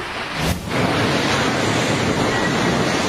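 Strong typhoon wind roars steadily with rain in Catanduanes, a loud, continuous rushing wash with a brief gust swell near the start.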